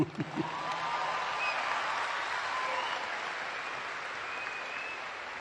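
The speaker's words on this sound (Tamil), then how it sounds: "அதுதான் உண்மையான கைத்தட்டு" A crowd claps steadily after a girl finishes singing, a faint, continuous wash of applause heard from a distance, with no talk.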